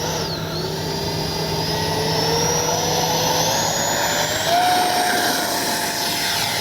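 A small jet climbs away after takeoff with its flaps set for takeoff. A loud, steady jet roar rises and falls through a rising whine and fills the whole stretch with no pause. No one talks.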